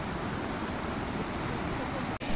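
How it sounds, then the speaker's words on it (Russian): The Caramel waterfall at Sutoki in the Novgorod district, where the Zmeyka river flows into the Vironda over peat-stained ground, gives a steady, close, continuous rushing roar of falling water. "Мы приехали на Карамельный водопад."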